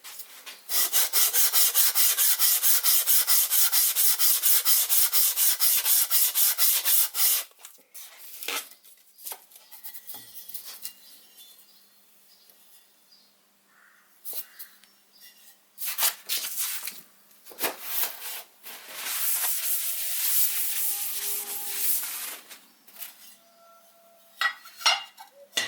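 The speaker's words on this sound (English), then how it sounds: "So I'll do a bit more filing and refine it" A hand file works a metal steam engine baseplate, starting with a long run of rapid, rhythmic rasping strokes, then continuing as shorter bursts of scraping separated by quiet pauses, close and clear.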